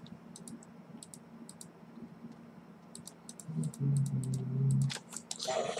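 Rapid computer mouse clicks while editing pixel art, light ticking taps in small clusters, quiet and close against a soft background hum.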